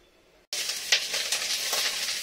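Ingredients frying in a hot pan before mixing: silence, then a sudden loud, steady sizzle starts and carries on with small stirring scrapes, no talk.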